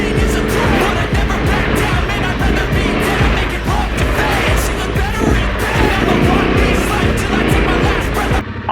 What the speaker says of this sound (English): You can hear the exhaust note change in some of the deep ones.